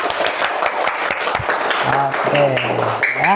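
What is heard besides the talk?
audience clapping hands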